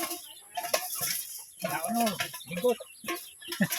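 Chicken clucks and short crowing-like calls from nearby fowl, mixed with background voices and a steady high hiss.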